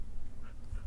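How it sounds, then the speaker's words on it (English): A dog in Minecraft, a video game, gives a brief, soft whimper, close and short, with no talking. "we found the dog."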